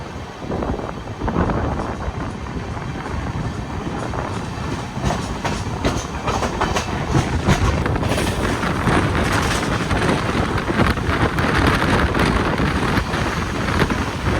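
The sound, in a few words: Sabari Express LHB train departing Palakkad Junction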